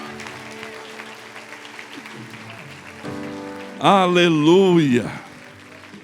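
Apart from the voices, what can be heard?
church congregation applauding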